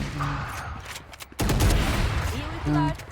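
Gunfire in Valorant, loud close bursts of shots in quick succession with a voice talking in the game alongside.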